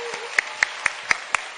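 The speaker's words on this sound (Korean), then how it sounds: "박수 한번 쳐주시고요." Five sharp hand claps in a steady, even rhythm at a church worship service, close by over a faint background hum.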